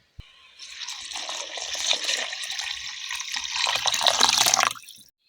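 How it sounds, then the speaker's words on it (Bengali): Water poured into rice for pulao, a close, continuous splashing pour that builds in strength before stopping abruptly near the end. "এবার এর মধ্যে জল দেবো"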